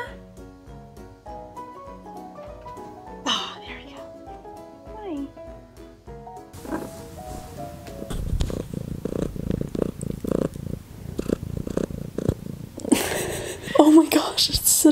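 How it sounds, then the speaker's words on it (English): A house cat purrs loudly and steadily up close, a continuous low rumbling buzz, with someone talking over it and music at the start. "Such a loud purr."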